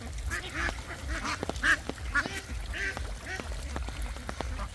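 Ducks quack in the rain repeatedly in short, nasal bursts over a steady low rumble, a few calls standing out louder and nearer than the rest, in a village in Sirajganj, Bangladesh.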